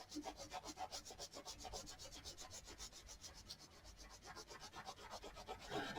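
Caran d'Ache Neocolor II water-soluble wax pastel rubbed quickly back and forth on paper, a close, quiet, rhythmic scratchy scrubbing of even strokes that continues steadily, with no talking.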